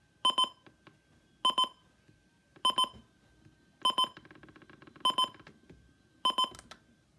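A radio alarm clock beeps loudly in a steady repeating pattern, six evenly spaced clusters of sharp, piercing beeps, close and dominant with no talking.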